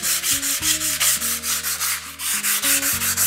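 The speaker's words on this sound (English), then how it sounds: "Personally, I prefer to sand with grit 150" Wood is sanded by hand with 150 grit sandpaper in steady back-and-forth strokes, roughly three per second, with a close and continuous rasp playing over a tonal background.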